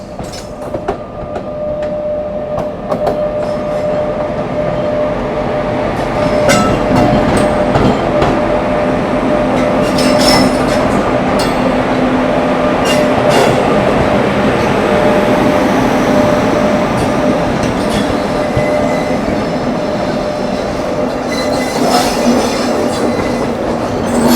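The 14041 Mussoorie Express from Delhi to Dehradun runs over railway tracks in an ICF first AC coach, a loud steady rumble with rhythmic clickety-clack and faint squeals carrying on without a break throughout.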